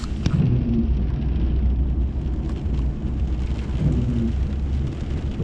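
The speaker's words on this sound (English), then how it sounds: "Well, the storm is definitely here." A storm rages with heavy rain and a continuous low roar, loud and unbroken, with deep rumbling like distant thunder underneath.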